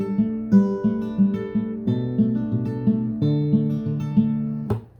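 A fingerstyle acoustic guitar plays a steady Travis-picking pattern, alternating bass notes under plucked treble strings in an even, repeating rhythm, close and clear with no voices.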